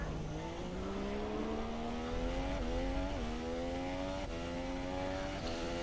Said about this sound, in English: Heavy braking into turn 14.